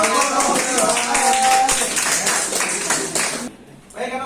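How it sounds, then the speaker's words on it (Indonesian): A classroom group of students claps together in quick, lively rhythmic bursts, loud and close, fading out near the end. "Tepuk tangan untuk kelompok"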